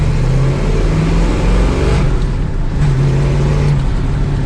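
A first-generation Dodge Challenger R/T's engine roars loudly from inside the moving car as it takes more throttle, with a deep steady drone that climbs, dips briefly, then pulls again over constant road noise.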